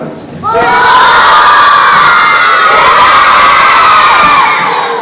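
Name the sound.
children yelling loudly in a school assembly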